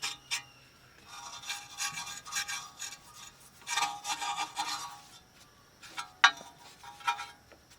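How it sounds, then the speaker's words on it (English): Scratchy, rasping strokes of a wire brush scrubbing rust from front brake parts of a 1996–2000 Honda Civic. Short bursts come in an irregular rhythm with brief pauses and a sharp metallic tick near the end, close and fairly quiet, with no talking. "get the wire brush. Clean off any rust you can see."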